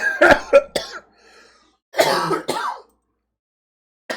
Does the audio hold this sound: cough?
yes